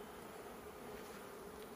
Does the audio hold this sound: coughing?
no